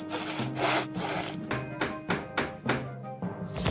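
Cartoon wood sawing for building a new Viking ship: a saw rasps back and forth through timber in about seven steady, close strokes, with no voices over it.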